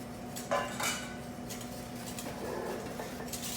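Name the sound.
whisking panna cotta mixture in a bowl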